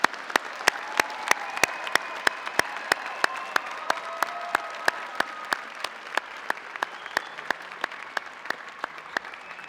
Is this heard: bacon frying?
no